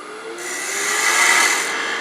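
A turning tool cuts wood on a lathe while roughly rounding over a small Christmas tree ornament blank, giving a continuous rough scraping hiss that swells slightly louder midway, close up with no voices.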